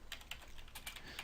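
A short burst of typing on a computer keyboard, a quick run of light, close key clicks in an uneven rhythm with no talk.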